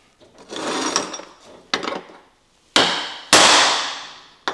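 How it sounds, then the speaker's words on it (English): Sharp hammer blows drive a center punch into metal clamped in a vise, several loud close strikes with ringing decay, the last two hardest and separated by brief pauses. "I'm going to take the center punch and give me a starting point"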